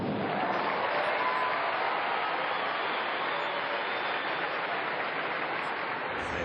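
Vocal tennis supporters at a Brisbane International match applaud steadily, a dense, even wash of clapping from a large crowd that holds at constant loudness throughout without a break.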